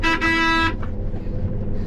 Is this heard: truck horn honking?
yes